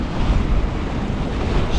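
Sea waves roll in a crossed swell beneath a sailing boat, a dense close rush of water and wind noise that stays steady throughout.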